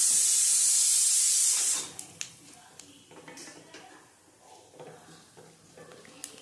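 Cumin seeds for tempering dropped into hot oil, a loud bright sizzling hiss for about two seconds that then fades to faint crackles and light clinks of the pan.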